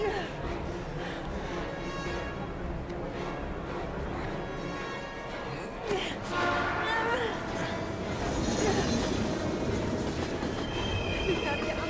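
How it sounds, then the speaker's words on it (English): A train approaches in the video game Heavy Rain, a steady rumble of rail noise with wheel squeal and metallic clatter that swells louder toward the end, with voices calling out over it. "We've gotta get on that train, Ethan. It's our only chance."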